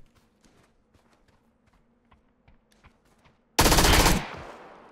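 Footsteps tap quietly for a few seconds in PUBG, then a sudden loud burst of close automatic gunfire cuts in and rings out briefly.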